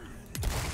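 A single loud shotgun blast in Resident Evil 4 Remake, a sharp crack with a booming low tail, standing out over a steady game backdrop.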